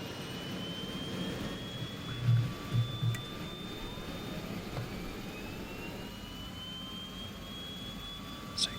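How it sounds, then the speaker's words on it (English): Both turboprop engines of an Aerosoft DHC-6 Twin Otter running in Flight Simulator 2020, a steady droning whine with slowly shifting tones, moderately quiet and continuous, with a few soft thumps and no talk. "you can say that both engines are running"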